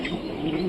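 A young male pigeon coos softly and steadily in a low, throaty murmur for under a second, close by with no talk over it.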